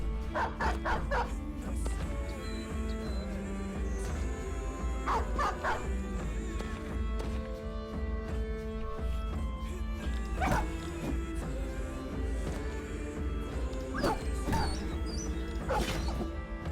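Dogs bark, yip and whimper in the video game Battle Brothers, repeated sharp calls scattered over a dense, continuous battle din with clashing impacts throughout.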